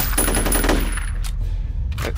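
Enemy automatic gunfire in the shooter game F.E.A.R., a fast loud burst of rapid shots for about a second followed by a few scattered separate cracks, close and unaccompanied by talk.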